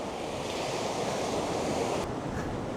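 A strong sea breeze blows across the beach at Bowleaze Cove, a steady broadband rush of wind mixed with surf, loud and continuous, with no voices.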